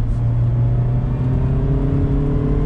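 A 2019 Mazda MX-5 Miata Club engine drones steadily and loudly from inside the cabin with the top up, with a deep, even hum and no talking.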